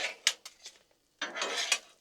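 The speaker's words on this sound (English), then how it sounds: "These are starting to brown a good bit. So let's go ahead and stir them up." A metal spatula stirs blueberry biscuit bites on a Blackstone griddle, a few quick close scrapes and clinks followed by a longer rasping scrape across the flat-top.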